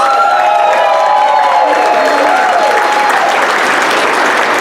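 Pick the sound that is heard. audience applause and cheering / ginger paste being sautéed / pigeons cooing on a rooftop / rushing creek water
audience applause and cheering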